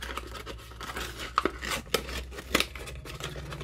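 Scissors snip through thin leftover pieces of dried acrylic pour paint, a series of close, quiet, irregular cuts with faint crinkling.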